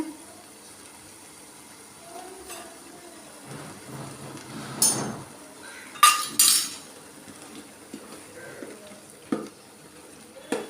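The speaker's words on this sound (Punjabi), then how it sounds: "ਇਹਨੂੰ ਇਸ ਤਰੀਕੇ ਨਾਲ ਭੁੰਨੀ ਜਾਵੋ ਥੋੜੀ ਥੋੜੀ ਕਿਤੇ ਇਹਨੇ ਸਮਾਰ ਮਸਾਲਾ ਭੁੰਨ ਲੋ" A chili spice mix with cumin and turmeric dry-roasting in a pan as a metal spoon stirs it, soft scraping and sizzle broken by a few sharp clinks against the pan.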